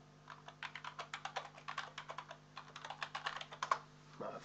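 Steady, fairly quick typing on a computer keyboard while working in Microsoft Visio: a continuous run of light, close key clicks with a slightly louder tap near the end.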